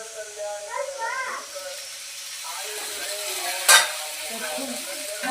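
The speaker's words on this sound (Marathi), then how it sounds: "मी 2 टोमॅटो आणि कांदा टाकून तर मी आता परतून घेते छान मस्त लाल" Tomatoes and onion frying in oil in a pan for a home-style chicken curry, a steady close sizzle with stirring and one sharp clatter of utensils, while someone talks over it throughout.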